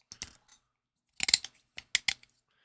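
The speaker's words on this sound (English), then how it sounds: "you guys probably can hear it crunching or clicking" Supports inside a hollow 3D print are dug out with a tool, making quiet scattered crunches and sharp clicks in small bursts separated by silence.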